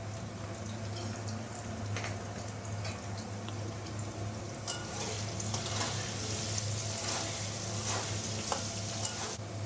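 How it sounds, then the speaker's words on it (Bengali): Potatoes frying in a pan with salt and turmeric for a green jackfruit curry give a steady close sizzle throughout, with occasional light scraping and stirring clicks. "নুন আর হলুদ দিয়ে আলুটা ভেজে নেব।"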